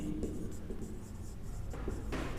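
Writing on a board during a physics lesson about transformers, a steady scratchy stroking that runs the whole time at close range with short pauses between strokes and no one speaking.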